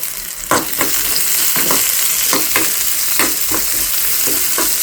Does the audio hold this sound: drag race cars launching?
no